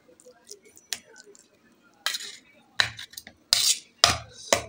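A steel plate of carrot halwa lifted off a kadhai and set down, with a few sharp metallic clinks and scrapes spaced out over several seconds, close and fairly loud against a quiet kitchen, with a voice talking between them.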